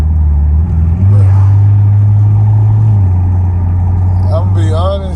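A car fitted with a newly installed aftermarket exhaust, heard as a loud, close engine drone that rises in a rev and holds steady before a falling whine near the end, with someone talking over it.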